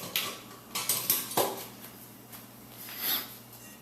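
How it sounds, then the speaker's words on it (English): Brown sugar, onion powder, garlic powder and other Kansas City sweet rib sauce ingredients tipped into a mixing bowl, with several close clinks and knocks of containers and utensils against dishware, separated by quiet pauses. "I'm just going to go ahead and put all these ingredients into this mixing bowl here"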